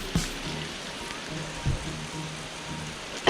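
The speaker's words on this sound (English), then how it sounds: "it's cold and it's rainy everywhere in Lithuania" Steady rain hisses over the streets of Vilnius, Lithuania on a cold day, a constant wash of drops with a few louder thumps and no talk.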